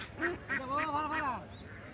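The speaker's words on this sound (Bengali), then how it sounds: "বিভিন্ন সাইজের হাঁস পাওয়া যাচ্ছে এখানে এই যে ভাইয়ারা হাঁস নিয়ে বসে আছে" Ducks for sale at Putia village market in Narsingdi give a short run of four or five nasal honking quacks, fairly faint against a low background murmur.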